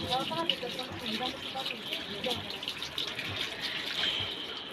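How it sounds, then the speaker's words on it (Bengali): Running tap water splashes steadily over a bael fruit as it is washed, a continuous gushing rush with no clear pauses. "এখানে ভালো করে বেলটাকে ধুয়ে নিচ্ছি আমি"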